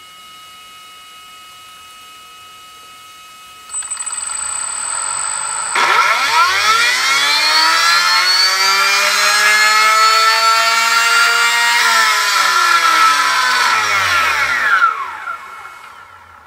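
A 13.5-turn R1 brushless RC car motor spinning on a dyno for an acceleration and brake test, a high electric whine that climbs steeply in pitch, holds, then falls away as it brakes to a stop, loud and close.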